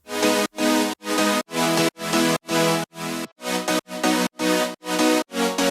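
Twelve evenly spaced, sustained chord stabs with a bright synth layer over piano, each cut off sharply before the next, loud and rhythmic with no voices.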